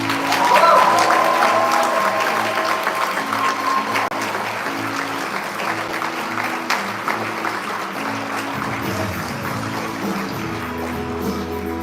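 An audience applauds steadily and loudly to welcome climate activist Varshini Prakash onto the stage at a live event held at the New York Society for Ethical Culture, with the clapping dense throughout and easing slightly toward the end.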